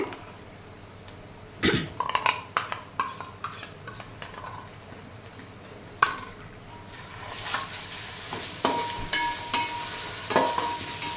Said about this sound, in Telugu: ఇదంతా కూడా ఆయిల్లో నెయ్యిలో చక్కగా వేగిపోవాలి